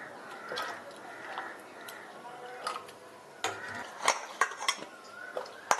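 Jackfruit pieces being stirred with water in a pressure cooker, with scattered metallic clinks and scrapes of a spoon against the pot, sharper knocks clustering near the end, quiet background otherwise.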